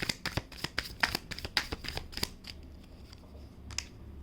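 Tarot cards are shuffled quickly at close range, a run of crisp riffling snaps in fast succession that thins out into a few softer, sparser card flicks.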